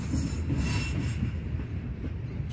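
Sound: BNSF freight train passing

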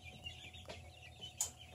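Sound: chickens clucking

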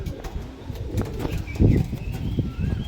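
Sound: pigeons cooing

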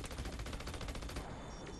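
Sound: minigun firing in Battleborn video game

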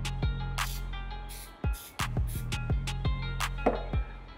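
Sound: spraying cleaner onto a microfiber pad

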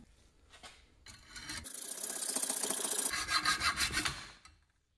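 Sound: sawing off an aluminum casting sprue

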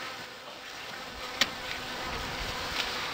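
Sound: honey bees buzzing around a beehive

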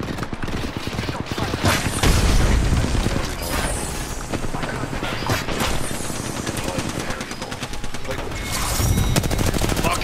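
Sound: frag grenade and gunfire in Apex Legends video game

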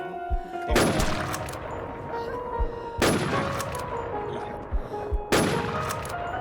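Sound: gunfire in video game Infestation The NewZ

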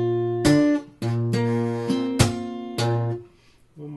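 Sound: acoustic guitar playing measure 17 of a song

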